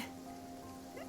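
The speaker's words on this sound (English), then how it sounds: "It's raining." Rain patters softly and steadily in Genshin Impact, a faint even wash of falling drops lasting only a moment, with no voices.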